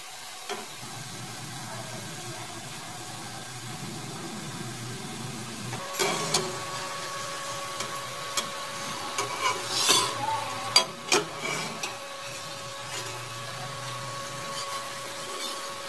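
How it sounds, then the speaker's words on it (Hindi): Gulab jamun fry slowly in a pan over medium heat, a soft steady sizzle underneath occasional gentle knocks and scrapes of stirring that cluster toward the second half. "इस तरीके से धीरे धीरे मध्यम आंच पर इनको पकते रहेंगे, थोड़ा थोड़ा चलाते रहेंगे"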